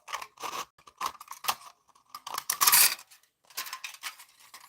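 Monster energy drink cans being cut with scissors into strips, giving a run of crisp metallic snips and crinkles in irregular bursts, close and fairly loud, with no talking.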